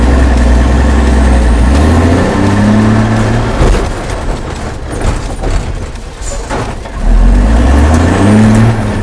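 A truck's engine idles and revs loudly at a staged truck-versus-bike crash test, its low rumble rising and falling in pitch at the start and end with a steady mid-range drone throughout.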